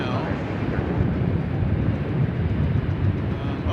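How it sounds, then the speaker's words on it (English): An MD-11 airliner lining up for takeoff at DFW Airport gives a loud, steady, broadband engine rumble, close and continuous, with wind buffeting the microphone. "the MD-11 is lining up right now"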